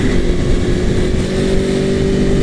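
An Aprilia Tuono Factory motorcycle pulls hard under load, its engine note a steady, loud, close drone with a strong low rumble that holds without a break.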